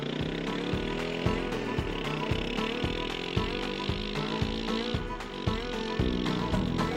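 Vehicle towing a K-Line sprinkler irrigation line across a paddock, a steady engine drone with a regular rhythmic thumping and clatter running throughout.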